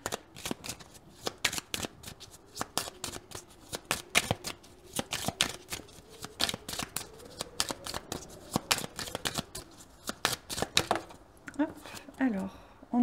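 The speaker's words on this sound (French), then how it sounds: "il y a toutes les cartes qui tombent" Tarot cards are shuffled by hand close up in rapid, dense bursts of flicking and riffling that run almost without pause, tapering into a few softer taps and slides at the end.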